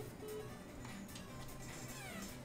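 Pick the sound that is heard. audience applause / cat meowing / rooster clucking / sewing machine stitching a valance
cat meowing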